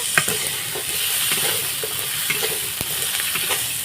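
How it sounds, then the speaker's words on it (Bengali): Spices and ginger fry in a pan with steady sizzling and hissing, broken by light scraping and stirring strokes, close and continuous without any talk. "এইভাবে আমি সবগুলো একসাথে ভেজে নিয়েছি"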